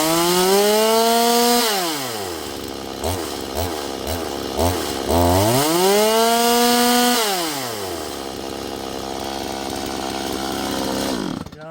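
A HOLZFFORMA G260 chainsaw with a fault is started up close and loud. It revs high and drops to a stuttering, uneven idle with a series of choppy bursts, then revs up again before settling into a steady, rough run.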